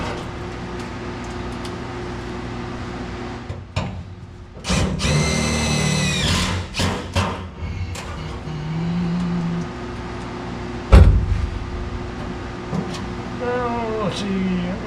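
A power drill drives screws into sheet metal on a 1967 Chevrolet C10 truck's driver's side floor, giving short whirring bursts with pauses between, amid garage clatter and a person talking.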